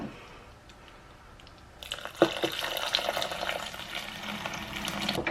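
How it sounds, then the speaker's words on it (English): Stock made from a stock cube dissolved in boiling water is poured into a slow cooker, a soft liquid splashing and trickling that begins midway after a quiet start, with a clunk near the start of the pour. "I've put 1 stock cube in about 400 ml of boiling water. I'm just going to add that into my slow cooker."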